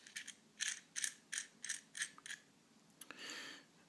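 Vape tube and bottom cap being screwed together by hand, giving a series of about eight short dry clicking, ratchet-like ticks in quick rhythm, close and fairly quiet, ending in a softer scrape, with no talking.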